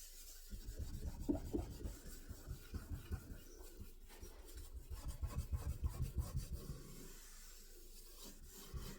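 Close, vigorous scrubbing of burnt-on stains from a Maytag cooktop stove surface, coming in quick rhythmic bursts of rough rubbing strokes with short pauses between, and no voices.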